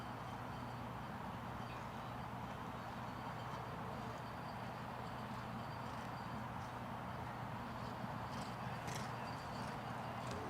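A show jumping horse canters over grass polo fields, its hooves thudding in a soft, steady rhythm beneath a constant low background hum, fairly faint and distant.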